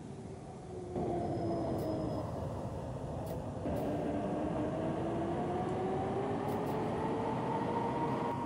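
A District Line train in the OpenBVE Train Simulator rolls into Putney Bridge station, its motor whine rising steadily in pitch over a continuous rumble, with a brief beep near the start and a few clicks.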